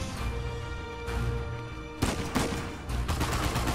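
Rapid automatic gunfire from an AK rifle in the video game Uncharted 4, loud bursts over a steady game soundtrack, with the sharpest volleys arriving after the midpoint and again near the end.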